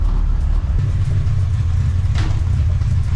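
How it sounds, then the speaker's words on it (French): A car engine idles steadily after starting, a low rumble close to the microphone that holds an even note throughout with no voices. "Ah, j'entends déjà le moteur, c'est bien."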